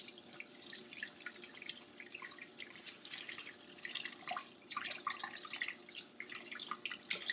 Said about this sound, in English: rinse my hands off again.